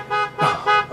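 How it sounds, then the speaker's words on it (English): Car horn honking in three sustained blasts, loud and close, with a brief gap between each. "can you please stop honking your horn?"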